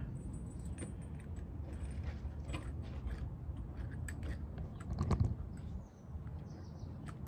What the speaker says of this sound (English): Now slide the little washers on, this big spacer on